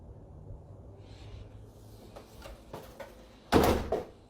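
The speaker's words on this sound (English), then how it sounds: "knocking can be heard coming from the closed front door" Knocks sound on a closed front door, a few soft raps followed by a louder, heavier thump, heard from nearby indoors over a low background hum.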